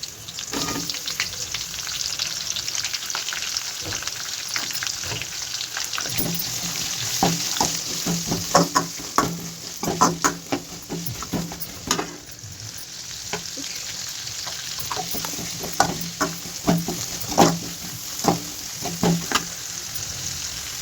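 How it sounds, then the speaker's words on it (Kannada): Onions frying with curry leaves and chillies in oil for chitranna, a continuous close sizzle with repeated scraping stirs of a spoon against the pan, and no one talking. "ಈಗ ನಾನು ಈರುಳ್ಳಿ ಹಾಕ್ತಾ ಇದ್ದೀನಿ."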